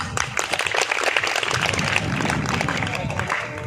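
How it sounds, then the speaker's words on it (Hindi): Audience applause fills a hall during a school farewell ceremony at CM Rise School, Khachrod, a dense, steady wash of clapping from many hands, fairly close and continuous, with some crowd noise mixed in. "इनके लिए खूब तालियां बजाइए, क्योंकि ये तो हमारे अपने हैं।"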